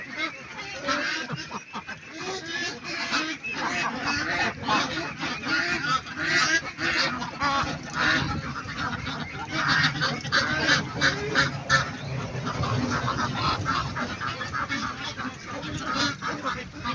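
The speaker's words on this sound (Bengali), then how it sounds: "হাঁসের কিন্তু পুরো ফার্মটা কিন্তু ক্যাচর ম্যাচরে কিন্তু ভরে গেছে।" A crowd of ducks at a large duck farm quack and clamor continuously, a dense overlapping chorus of honking calls, loud and close throughout.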